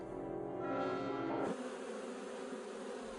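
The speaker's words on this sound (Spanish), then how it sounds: "El zumbido de una abeja tiene unos 30 hercios" A honeybee's droning buzz, around 30 hertz, loud and close, shifting in pitch midway and continuing steadily.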